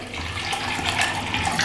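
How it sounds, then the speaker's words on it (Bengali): Water poured into a bowl of soaked, rinsed chana dal (split chickpeas) makes a steady, close rushing splash that runs unbroken for the short moment with no talk. "এখন ছোলার ডালের মধ্যে দিয়ে দিচ্ছি পরিমাণ মতন জল।"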